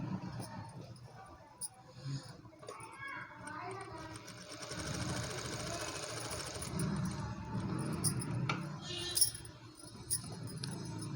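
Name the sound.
sewing machine stitching a baby blouse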